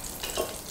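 Curry leaves crackle and sizzle briefly in hot oil in a pan, a soft and fairly faint burst of frying.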